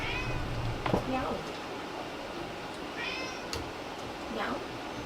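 A cat meows several times in a room, a few separate calls rising and falling, with a person's voice also imitating the meows in between.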